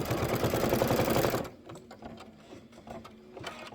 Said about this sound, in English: this is going to do a placement stitch